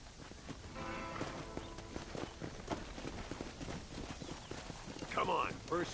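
Horse hooves clop at a steady walking pace beneath voices and background game ambience in Red Dead Redemption.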